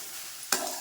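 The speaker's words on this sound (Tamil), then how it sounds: "இந்த சோயாபீன்ஸை போட்டு கொஞ்சம் வறுத்துக்கலாம்" Soybeans hit a hot pan with salt and chilli powder, and a sudden close sizzle bursts in halfway through, then keeps crackling steadily.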